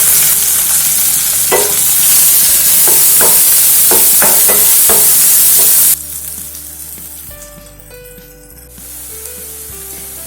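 Sliced onions and round-cut green chillies being sautéed in a pan give off a loud, close sizzle, punctuated by repeated scraping stirs, then the hiss drops away and a quieter frying texture continues.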